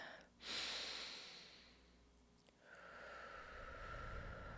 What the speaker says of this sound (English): let's take a nice deep breath in